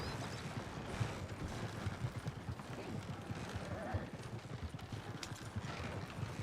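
Horses pulling a wagon in a Western video game, with steady, busy clip-clop of hooves running throughout and occasional creaks, under faint voices.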